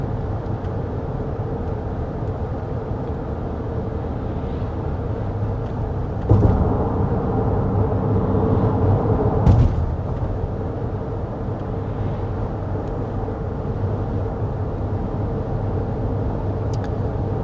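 Steady, low cabin road noise inside a Toyota Grand Highlander cruising at about 55 mph on a Kentucky road, a constant rumble with a couple of brief louder thumps and no talk.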